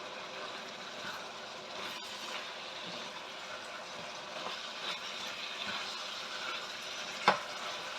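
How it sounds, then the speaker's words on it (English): Ginger, garlic and spices frying in a pan for a Jaffna steak and kidney curry, a steady soft sizzle throughout with a faint clink near the end. "we'll just fry that off for another couple of minutes"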